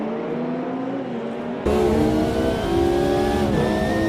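GT1 race cars, a Mercedes and a McLaren, roar past in the Automobilista 2 racing game at Le Mans. A steady engine drone jumps abruptly louder as the camera switches, and the high-revving whine continues loud and close with gear shifts.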